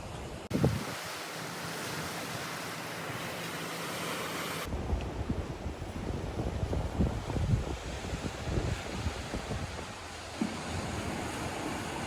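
Ocean surf rolling in at the sea in Sydney, Australia, a steady broadband wash of breaking waves with gusty wind noise buffeting the microphone, fairly loud and continuous with no voices.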